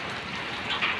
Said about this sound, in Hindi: ये देखो गाइस बारिश हो रही है हमारे बहुत जोरों से